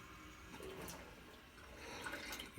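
Water running into a measuring cup while cooking, a soft continuous splashing and trickling pour without speech.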